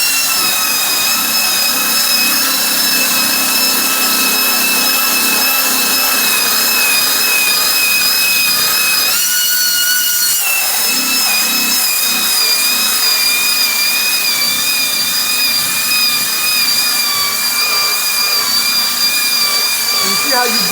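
A buffer polishes a taped-off car headlight during restoration, spinning a cloth to fling off excess wax; a steady, loud motor whine with a high tonal hum runs throughout, dipping briefly about midway.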